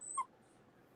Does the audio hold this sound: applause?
no